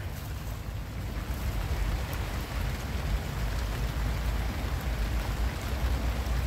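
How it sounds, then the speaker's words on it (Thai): Heavy rain pours down steadily during a fishing outing for snakehead, a dense, even hiss of drops with a low rumble beneath, close and continuous with no speech. "โอ้ยฝนกระตกครับพี่น้อง"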